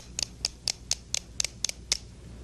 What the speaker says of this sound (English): you take some buttons and you paste them on some cardboard